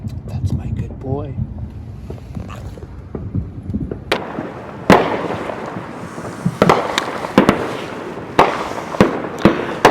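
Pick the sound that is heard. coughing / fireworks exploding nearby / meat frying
fireworks exploding nearby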